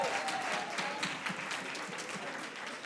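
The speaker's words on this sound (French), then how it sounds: "Give yourselves a round of applause." Applause from a church congregation in Paris fills the room, a dense steady wash of many hands clapping at an even level for the whole stretch, with no voices standing out.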